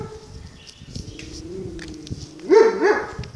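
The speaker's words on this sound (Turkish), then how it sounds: "İşte havlayan komşumuzun köpeği Gölge." A neighbour's black dog barks out on a residential street, a couple of sharp barks near the end after a quieter stretch of distant street noise and faint bird calls.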